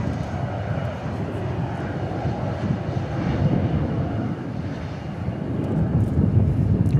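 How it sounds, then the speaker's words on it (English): An Embraer E-175 jet taking off at DFW International Airport gives a steady, broad engine roar heard from a distance. It swells slightly over several seconds and carries no talk. "We got an E-175 takeoff."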